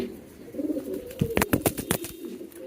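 A male pigeon coos close by in a quick run of low, repeated calls, rising from faint background noise with no talk.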